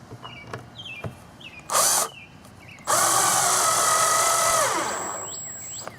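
Power drill driving a coarse-thread screw into particle board for a concrete form, two bursts of whining motor: a short spin, then a longer run that winds down, with light clicks and knocks in between.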